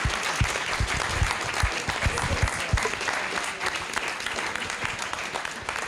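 A room full of people at a veterans panel breaks into sustained applause, with thick overlapping claps and some sharper individual hand strikes standing out near the front.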